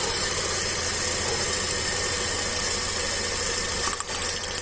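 A car engine idling with a misfiring cylinder, a steady close mechanical hum with a slightly uneven low pulsing throughout and a brief dip near the end.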